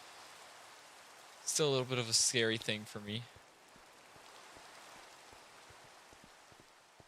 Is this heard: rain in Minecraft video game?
yes